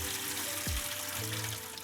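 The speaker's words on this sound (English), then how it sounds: "You want to give this a nice rinse on the cold running drinkable water." Cold drinkable tap water runs over separated napa cabbage leaves, a steady close rushing hiss with a brief low thump partway through, no talking.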